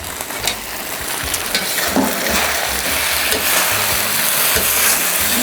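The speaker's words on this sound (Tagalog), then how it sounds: "Mix it well." Beef and broccoli with a little sesame oil sizzle loudly in a hot pan, with continuous frying hiss and intermittent scraping clicks from stirring.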